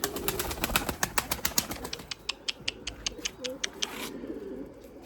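Pigeons call in a rapid, evenly spaced series of short notes, fairly close, with softer cooing underneath and no voices.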